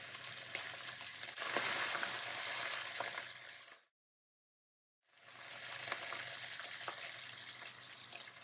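Garlic, ginger and green and red chillies sizzle and fry in a pan with a steady, bright crackle and a few stirring scrapes. The sound drops to silence for about a second partway through, then the frying resumes.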